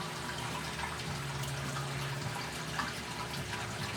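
A reef aquarium wave pump running at full power in a 90-gallon tank, with water churning and lapping in a steady, constant wash and a low hum underneath, close and continuous.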